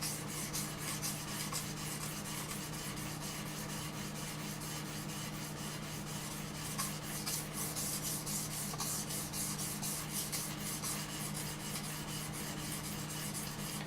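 A steel knife blade is drawn steadily over a whetstone with light pressure, making a continuous close gritty rasping with rapid repeated strokes and a faint background hum, with no talking.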